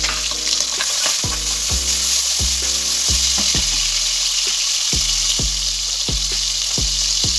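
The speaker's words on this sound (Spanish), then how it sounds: "Una vez dorada yo le voy a añadir unos cuantos champiñones." Pork shoulder and mushrooms sizzle in a pan with a steady, loud hiss, punctuated by regular knocks and scrapes of a utensil stirring every half second or so.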